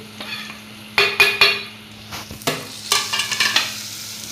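Spices for a soybean and lentil curry sizzle and crackle in hot oil while a spoon scrapes and stirs the pan in quick, uneven strokes.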